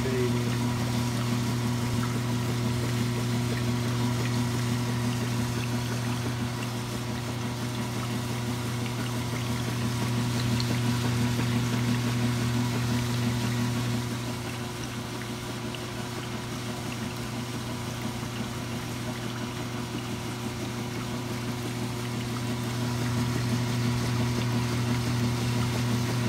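Washing machine running through a clothes wash, giving a steady loud motor hum with sloshing water that swells and eases over time.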